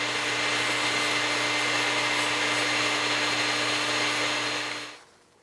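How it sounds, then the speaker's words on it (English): A steady, loud whirring drone of a wood lathe spinning during sanding, with a constant hum, cutting off abruptly near the end. "From here, we begin the sanding process."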